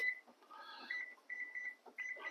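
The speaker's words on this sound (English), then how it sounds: "I have to put the timer on" A kitchen timer beeps in a series of short, faint electronic tones as it is set beside a pot of eggs on the boil, with no talking.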